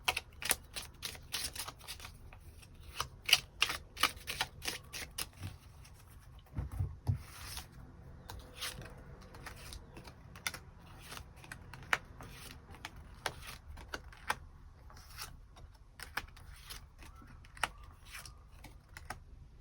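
Tarot cards are drawn and handled from a deck, giving crisp repeated snaps, flicks and soft rubbing at close range, arriving in irregular bursts with no talking.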